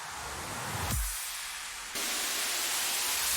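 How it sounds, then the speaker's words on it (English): Drum and bass production sound effects: a rising noise sweep builds, then a deep impact hits, followed by sustained bright white-noise wash with another burst near the end, all loud and without voices. "just rises and impacts just to create that tension"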